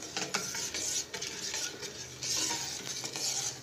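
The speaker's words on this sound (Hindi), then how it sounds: "हिलाते जाना है ताकि नीचे से लगे ना, और एहतियात से तैयार करना है।" Chocolate syrup being stirred in a pan makes soft repeated scraping swishes with a faint bubbling sizzle underneath, quiet and close, with no talking.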